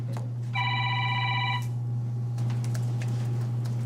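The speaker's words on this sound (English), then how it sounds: "Usually that's my phone. It sounds like my ringer" Phone ringer in a county board meeting room, a single electronic ring burst of about one second over a steady low hum, followed by faint room noise.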